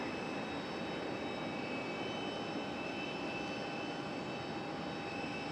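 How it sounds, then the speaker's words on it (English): A Frontier airliner arriving from Portland, Maine at Raleigh-Durham airport, its jet engines making a steady distant roar with a faint whine, continuous and unchanging throughout. "we're gonna go for Frontier. This one coming in from Portland, Maine, I believe."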